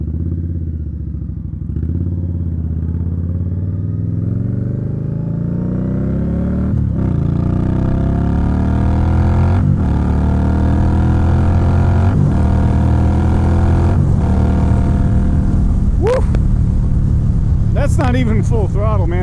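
An Indian Scout Bobber motorcycle pulls away at full throttle through rush-hour traffic, its engine note climbing steadily through several gear shifts, loud and close with constant wind rush.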